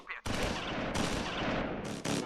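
Mortar and small-arms gunfire in the wartime strategy game Close Combat IV, a loud continuous fusillade of overlapping shots and blasts with brief sharp breaks, dense and close throughout.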